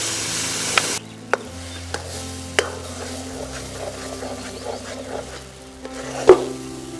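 Mashed banana for Jaffna-style halwa is stirred in a frying pan just used to fry peanuts, giving a steady soft sizzle with scraping spoon strokes and occasional sharp knocks against the pan.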